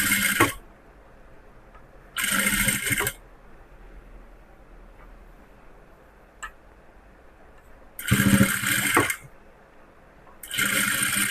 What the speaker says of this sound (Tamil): கழுத்தை வந்து தைக்கும்போது கொஞ்சம் கொஞ்சமாக தைங்க, கொஞ்சம் கொஞ்சமாக மடித்து தைக்கணும்